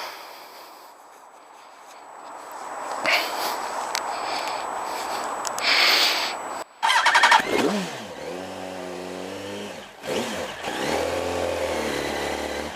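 A Yamaha R1 sportbike with a newly replaced clutch cranks and fires up, then idles and revs with rising and falling engine tones as it pulls away. The sound is close and loud, with brief gaps between revs.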